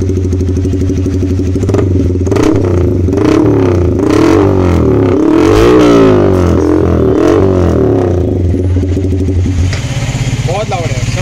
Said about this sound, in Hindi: ये वाला लगा रहे अपन एग्जॉस्ट ऑस्ट्रियन रेसिंग, जो बहुत लाउड है